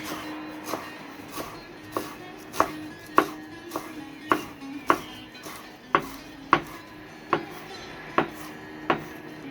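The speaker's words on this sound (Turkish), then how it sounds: "çok da inceltmeden, ezme haline getirmeden tek doğramayla yapıyorum" A knife chops fresh nettles for a salad on a cutting board: about a dozen crisp, evenly spaced knocks, close and distinct, over a quiet background.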